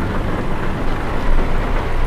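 Steady, loud rain pours down in Euro Truck Simulator 2 around a Mack Anthem 70 sleeper truck with a 505 hp engine, a dense continuous hiss with no voices.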